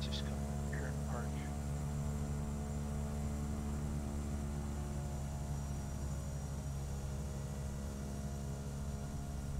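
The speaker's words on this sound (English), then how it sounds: "Taxiing to general aviation parking using taxiway hotel, Alpha Bravo." A Cessna 208 turboprop taxiing on an airport taxiway toward general aviation parking, its steady engine and propeller drone loud and constant throughout, with a few faint short sounds early on and no talking.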